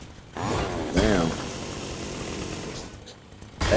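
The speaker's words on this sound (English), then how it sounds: "A chainsaw just chilling right here for me?" A chainsaw in the Fortnite battle royale game gives a steady mechanical engine drone that runs through most of the moment, with a louder swell near the start and voices talking over it.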